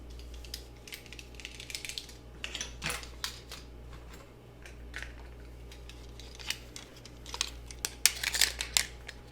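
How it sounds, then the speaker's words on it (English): Close, quiet snips and light crinkles as loose ends are trimmed in a robot-repair ASMR scene, with irregular crisp cuts clustering more densely toward the end over a low steady hum. "let me just snip those off"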